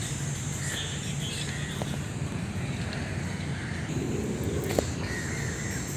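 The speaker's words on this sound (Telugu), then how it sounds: "కాకి సింగపూర్ కాకి కరెగానే ఉంది కదా" A crow caws outdoors in Singapore against steady wind-like background noise, its calls fairly faint and partly masked.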